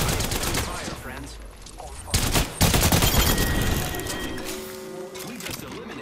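Charge rifle gunfire in a video game squad fight, loud repeated shots and bursts with a sharp blast partway through, mixed with game sounds and fading toward the end.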